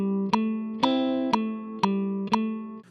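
A short guitar lick rings out in sustained tones while sharp metronome clicks land evenly at 120 beats per minute, six steady ticks across the phrase, close and clear.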